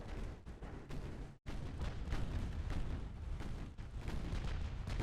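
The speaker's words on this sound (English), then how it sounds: "That's okay, we're here for the gunfire." Naval artillery booms repeatedly in the warship video game Ultimate Admiral Dreadnoughts, a dense rolling barrage of heavy gunfire with one brief silent break, loud and continuous throughout.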